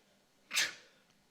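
A single short sneeze from a commentator during a CS:GO esports match broadcast, fairly faint and alone over quiet background hiss.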